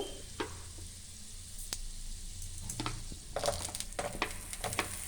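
Grated coconut roasts in a pan with a faint, steady sizzle, broken by scattered scraping and tapping as it is stirred, no voices present.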